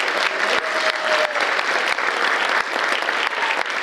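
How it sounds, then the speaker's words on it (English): A round of audience applause for the evening's master of ceremonies at a middle school holiday band concert, loud and continuous clapping from a packed hall for the full few seconds. "If you could give Samantha another round of applause."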